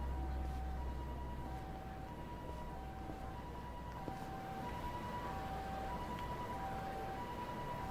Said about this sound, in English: I hear a siren, but I don't see anything